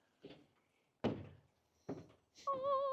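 A trapdoor on a custom-built spray drone trailer thuds shut twice, two solid close impacts with short decay, followed by a steady tonal hum or whine.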